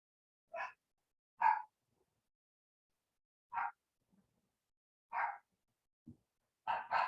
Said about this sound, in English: excuse my dogs, they're so rude